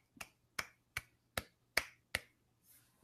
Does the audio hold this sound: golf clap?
yes